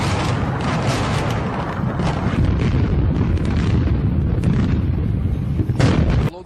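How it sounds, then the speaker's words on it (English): Loud, continuous rumbling roar with repeated deep booms at the World Trade Center site after both towers collapsed, dense low-frequency blasts overlapping with no clear gaps, a sharper burst near the end. "we've heard 3 explosions since both towers collapsed"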